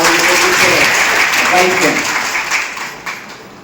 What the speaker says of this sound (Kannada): ನಿಮ್ಮೆಲ್ಲರ ಅಭಿಮಾನದ ಚಪ್ಪಾಳೆಯನ್ನ